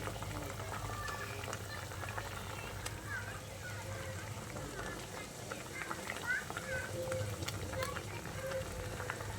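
Egg curry with omelette pieces bubbles quietly in a pot with soft, irregular popping, while a voice talks over it.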